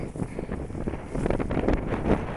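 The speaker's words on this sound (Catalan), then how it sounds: "El vent és el que mata aquí." Strong wind gusts buffet the microphone high on the Puigmal mountain, a close, rumbling roar that rises and falls in short surges, with no talk over it.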